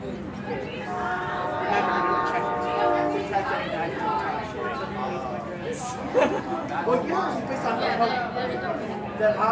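A distant Norfolk Southern train horn in Emmaus, Pennsylvania sounds a long, steady multi-tone blast while people talk and chatter nearby, their voices louder than the horn.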